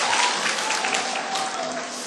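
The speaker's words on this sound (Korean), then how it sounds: "박수를 너무 치게 해서 미안합니다." Audience clapping steadily at a church new-members class, a dense, even patter lasting a couple of seconds at moderate level with no voices over it.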